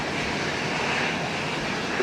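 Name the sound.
aircraft taking off from runway 12 left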